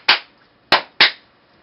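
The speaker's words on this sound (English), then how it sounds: "I'll be too busy clapping" Hands clapping to trigger a DIY clap-on/clap-off switch circuit with relay control: three sharp, close claps, the first alone and the next two in quicker succession, with quiet between them.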